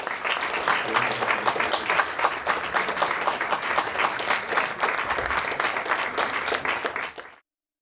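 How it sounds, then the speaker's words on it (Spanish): Sustained audience applause at an academic panel on drug trafficking and organized crime, steady dense clapping from a large crowd for about seven seconds before cutting off abruptly. "Pide aplauso, por favor."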